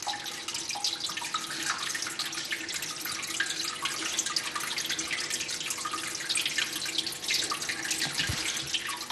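Steady trickling and splashing water runs continuously inside a small cave in a former stone quarry, with a bright, hissing texture and occasional drips, with no voices.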